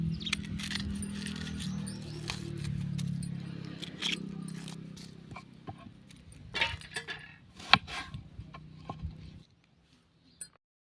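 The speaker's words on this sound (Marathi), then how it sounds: "आता आपण कांदा हा बारीक चिरून घेऊया" A knife finely chops onion on a board in a quick run of close taps and clicks, fading to a few sparse strikes before falling silent.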